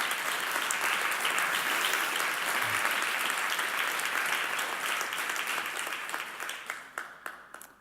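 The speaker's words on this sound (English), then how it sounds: "give God a loud clap offering of praise" A church congregation gives a loud, sustained round of applause in praise, dense clapping filling the hall before thinning out into a few scattered claps at the end.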